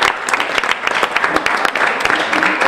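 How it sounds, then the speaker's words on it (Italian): Applause for a film crew on the set of "La moglie del sarto": a loud, close round of clapping from a small group, individual claps clearly distinct and irregular, steady throughout. "io faccio un applauso a loro"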